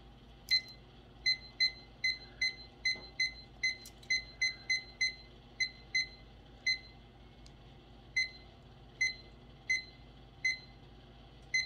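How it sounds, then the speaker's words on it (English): A digital kitchen timer being set for baking lasagna gives a long series of short, sharp electronic beeps in an irregular rhythm, close and clear against a quiet room. "So set your timer for 35 minutes. Here's the timer."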